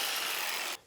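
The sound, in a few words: cutting a suspension link on a 2002 GMC Sierra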